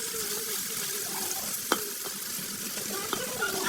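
Meat frying and being stirred in a pan over a clay stove in a home kitchen, a steady sizzle with occasional sharp scrapes and clinks of the spoon close by, no talk.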